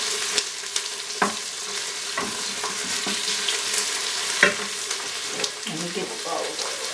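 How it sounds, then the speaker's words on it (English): Onions sautéing in an Instant Pot, a steady soft sizzle close by, broken by several sharp scraping knocks from a stirring spoon. "Gonna let this saute a little bit until the onions start getting nice and translucent"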